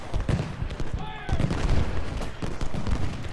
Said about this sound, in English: Okay, they are firing.